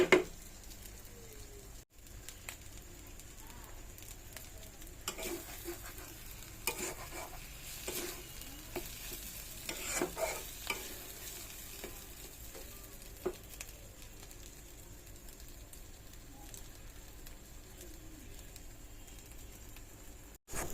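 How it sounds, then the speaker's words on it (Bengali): Fish roe fries in a pan on a low-medium flame with a soft, continuous sizzle, broken up by scraping, stirring strokes of a spatula, close and quiet with no speech. "মাছের ডিম ভাজি করতে বেশি কিছু প্রয়োজন হয় না"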